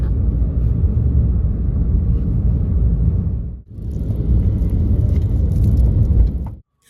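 Steady low road rumble inside a booked cab on a 3-kilometre ride through Tokyo, continuous and loud with a brief dip midway before the engine drone resumes, then cuts off abruptly at the end.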